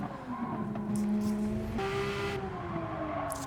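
A car takes a corner roughly on a track, its tires letting out a sustained, wavering squeal over the steady engine drone for a couple of seconds, with no one speaking.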